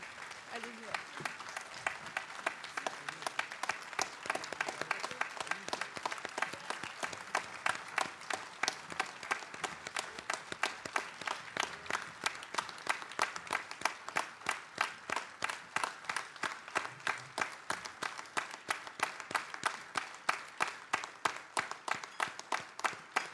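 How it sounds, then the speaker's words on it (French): Audience at a political evening gathering in Clermont-Ferrand applauds steadily and loudly, a dense sustained wash of clapping that carries on for the whole stretch with some crowd murmur underneath. "Bon, on peut les applaudir bien bien fort."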